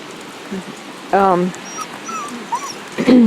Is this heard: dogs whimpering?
yes